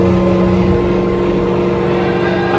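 A DC motor drives an electric generator during a power-generation lab exercise, running with its speed sagging under load. It makes a steady, loud mechanical drone with a constant hum, heard alone with no talking.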